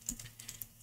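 A few quick, soft keystrokes tapped on a computer keyboard, faint and close, a short irregular patter with no talking.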